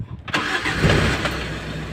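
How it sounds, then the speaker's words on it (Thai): A 1975 Toyota KE35 two-door hardtop sport coupe cranks briefly and fires up, then settles into a steady, close, rough idle that runs on alone. "ติดเครื่องให้ดูนะครับ"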